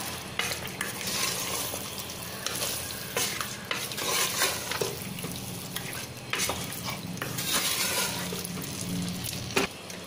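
Chicken being stirred into a yogurt mixture in a pot for chicken biryani, with wet scraping and clinking of a spoon against the metal pot in short repeated strokes, close and fairly quiet, with no talk.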